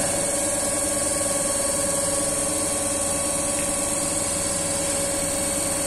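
A TERCO long-shunt DC compound generator running at 1400 RPM gives off a steady, even machine hum with a constant high whine, holding level throughout with no talk.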